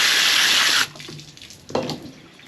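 A hose blasts water into a gutted tommy ruff as it is rinsed out: a loud, steady close-up gush for under a second that stops abruptly, followed by quieter trickles, drips and one brief splash.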